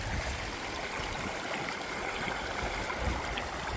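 A mountain river in the Canadian backcountry rushes steadily and close by, a dense unbroken wash of flowing water with no pauses or voices.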